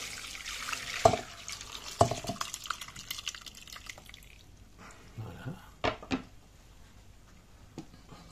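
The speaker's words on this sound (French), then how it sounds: "on va passer notre mélange pour enlever la pulpe" Boiled cherry kisiel mixture for a Polish dessert is poured through a strainer to remove the pulp, giving soft dripping and liquid splashes with a few sharp knocks of utensil against bowl, fairly close and quiet.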